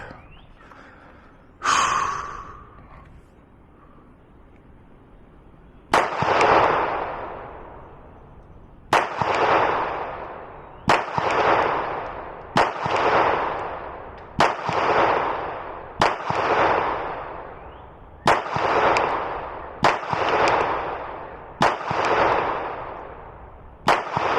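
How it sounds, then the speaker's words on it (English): A Glock 19 pistol fitted with a Vantage Point Armory compensator fires about a dozen loud, sharp reports with ringing decays at an outdoor range near a concrete wall, one early shot then a steady string of closely spaced shots. "we're going to throw that Vantage Point Armory, and then we'll go ahead and shoot this one right here"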